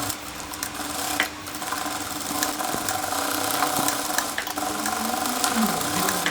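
A sewing machine set to a short, fine stitch runs steadily, sewing a children's dress. The motor hum and needle chatter are moderately loud and continuous throughout, with no talking.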